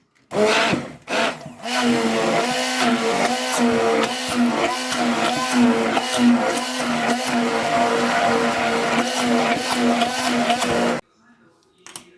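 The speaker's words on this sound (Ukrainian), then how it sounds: "І перебиваю все блендером." A blender whirs loudly, mixing a farmer's cheese marshmallow mixture with dissolved gelatin, with a steady motor hum for about ten seconds, then cuts off, leaving near silence.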